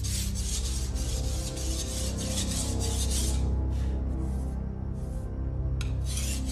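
Steady hand rubbing on a Viking sword blade, a continuous rasping scrape close by with repeated strokes, loud and even, and no voices.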